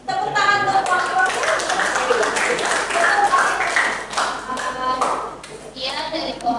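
A class group presentation ends with a round of hand clapping for the presenting group, scattered claps mixed with voices of people talking throughout, loud and close, lasting several seconds.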